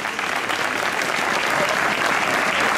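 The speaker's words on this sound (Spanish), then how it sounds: "Salva, un aplauso." A crowd at a performance of the Auto de los Reyes Magos in Librilla gives sustained, even applause for the director Salvador Sereno, many hands clapping continuously with no letup.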